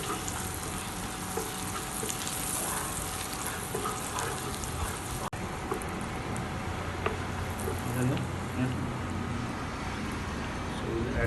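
Garlic fries in a pan for garlic rice with jasmine rice, a soft, steady sizzle that keeps going, with some faint background noise.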